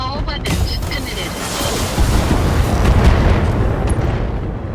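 Mech weapons firing in a precision strike in Battletech: a heavy booming volley with sharp opening reports, swelling into a sustained rumbling blast that fills the whole stretch loudly.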